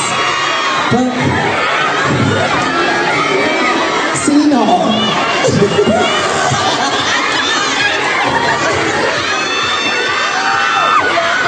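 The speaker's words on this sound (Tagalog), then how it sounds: "Ang sigaw ng tao!" A large crowd shouting and cheering loudly at once, a continuous roar of voices with a brief word spoken over it.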